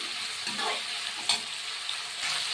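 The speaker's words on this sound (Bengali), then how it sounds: "এই পেঁয়াজগুলো দিয়ে খুব সুন্দর করে নাড়াচাড়া করে নিচ্ছি" Onions frying and being stirred in a pan for a prawn and ash gourd dish, a steady close sizzle with a few brief scraping stirs, no voices.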